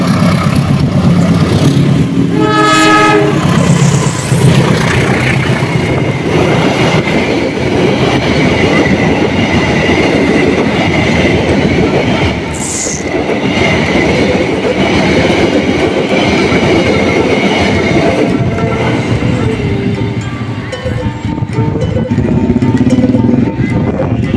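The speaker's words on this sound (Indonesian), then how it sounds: "lintasan yang saat ini sedang dilintasi kereta" A train rolls past on the tracks, a loud continuous rumble with clattering wheels and a brief high squeal, heard close for the whole stretch.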